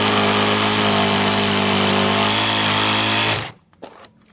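A Onevan jigsaw running slowly on its swing setting, struggling under pressure: a loud, steady motor whine with strong tonal hum, holding constant before cutting off abruptly near the end, followed by brief quiet handling noise.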